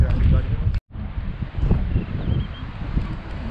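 Strong stormy wind on a mountain summit buffets the microphone in heavy, continuous gusts, with a brief dropout and a voice partly buried in the roar.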